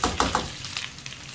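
Chicken 65 frying until crispy in hot oil, a steady close sizzle with a few stirring clinks at the start, no voices.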